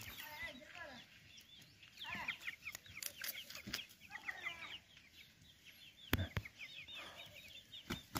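Two-and-a-half-month-old chicks and young roosters cluck and chirp in a farmyard, repeated soft calls at moderate distance, with a person talking at times and a few sharp knocks.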